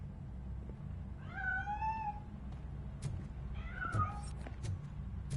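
A cat meows twice in a video game, thin and plaintive, over a steady low background hum, with a few faint clicks in between.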